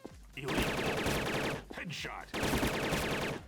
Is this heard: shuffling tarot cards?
no